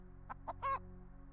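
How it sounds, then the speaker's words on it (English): Farm chickens in a video game, a few short clucks in quick succession followed by a slightly longer call, faint over a low steady background hum. "There's chickens."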